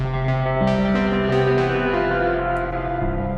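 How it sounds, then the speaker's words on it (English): Synth tones from an Elektron Digitone run through a Strymon NightSky time-warped reverb pedal with the signal driven hard into the reverb, giving sustained, layered chords that bloom into a dense, shimmering wash for several seconds. "drives the signal harder into the reverb algorithm"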